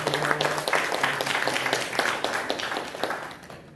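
A church congregation at a Korean Christian prayer meeting breaks into steady, dense applause for their pastor, a loud continuous patter of many hands that tapers off near the end.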